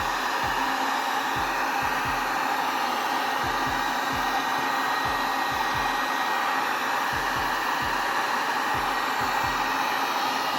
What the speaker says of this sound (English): I'm going to try to use my heat gun